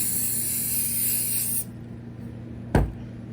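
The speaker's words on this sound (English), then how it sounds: "I'm just gonna spray it with some Fabric Crafts water shield." A can of Fabric Crafts water shield gives one steady, close hiss of spray lasting about a second and a half, followed by quiet and a single soft knock.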